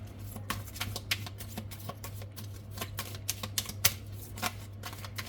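Tarot cards are drawn and handled at a reading, giving a quick, irregular run of crisp taps and flicks over a low, steady hum.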